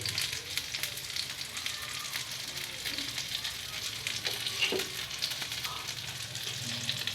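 Fish sizzles steadily as it fries in hot oil in a pan, a dense close crackle running throughout with occasional soft stirring clicks and no talking.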